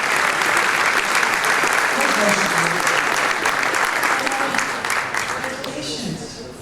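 Sustained audience applause at a stepfather-of-the-year ceremony, full and steady before fading slightly in the final second, with a few voices mixed in.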